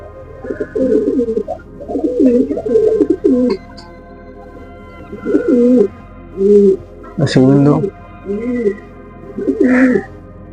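Kaldum pigeons coo in low, throaty bursts, repeated in separate phrases with short pauses between. The birds are close and the cooing is fairly loud, with a faint steady hum in the background.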